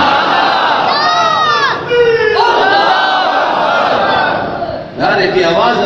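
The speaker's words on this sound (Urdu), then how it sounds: "نعرے کی آواز ابھی آپ کے لیے۔" A large crowd at a religious conference chants a slogan in loud unison, with rising and falling shouted phrases repeated in waves and brief dips between calls.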